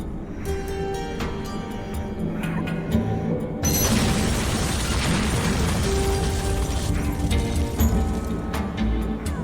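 A bomb blowing up a building in The Incredible Adventures of Van Helsing Final Cut: a sudden loud blast bursts in partway through, followed by a sustained rumbling, crackling roar of debris and collapse.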